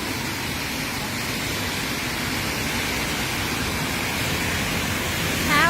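Steady rain pours down in Ekkamai, Bangkok, a constant broadband wash with no voices, swelling slightly louder at the very end.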